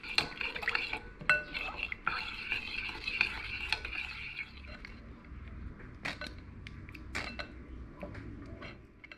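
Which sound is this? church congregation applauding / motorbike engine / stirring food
stirring food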